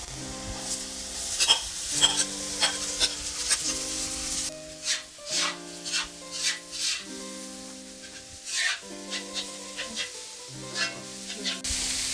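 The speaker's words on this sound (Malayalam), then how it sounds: "നല്ല ഹൈ ഫ്ലെയിമിൽ തന്നെ ഉള്ളി വഴട്ടിയെടുക്കുക." Onions sauté on a high flame in a pan with ginger and garlic. A loud sizzle opens, then scraping stir strokes come in a regular rhythm under melodic background music.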